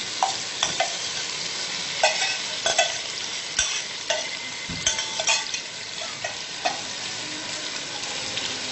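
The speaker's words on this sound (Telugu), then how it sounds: "ఇప్పుడు మనం ఆల్రెడీ పెరుగులో నానబెట్టుకుని సోయా చంక్స్ యాడ్ చేస్తున్నాం." Soya chunks soaked in curd stirred into a frying tomato masala: a soft steady sizzle broken by repeated sharp scrapes and clinks of a spoon against the pan, fairly quiet and close, with no talking.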